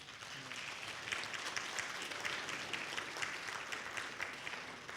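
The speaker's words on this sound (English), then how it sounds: "All right, give them a round of applause, church." A church congregation at a Seventh-day Adventist baptism service claps steadily, a dense and even round of applause that holds at moderate volume for the whole stretch, with no talking over it.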